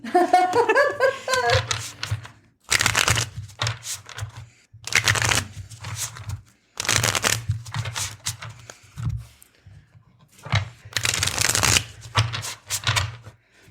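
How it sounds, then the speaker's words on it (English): A deck of cards is shuffled in several rapid, papery bursts, with a short laugh at the start and pauses between shuffles. "I watched Cat shuffle, but I'm going to also cut the deck"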